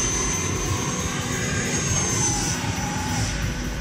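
An FMS Futura V3 80mm RC jet hovers with a steady, loud, continuous whine and roar of its ducted fan, holding a constant pitch throughout with no voices.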